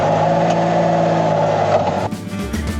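A car drives a mountain road outside Montrose, Colorado, with a steady, loud engine drone and road rumble heard from inside; the tone shifts and eases slightly near the end, with no talking.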